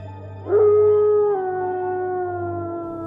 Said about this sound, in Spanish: ¿Sabes por qué los lobos aúllan a la luna llena?